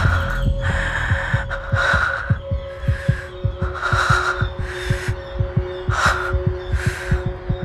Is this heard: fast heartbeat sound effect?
yes